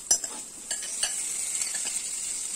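Raw banana pieces get stirred into frying spices and onions, giving a steady sizzle with scraping spoon strokes across the pan, one sharper clink at the start.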